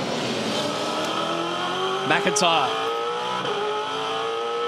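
V8 Supercars race cars roar around the Gold Coast 600 street circuit, steady engine drone with a brief tire squeal and bumping as cars jostle out of a corner, under a commentator's voice.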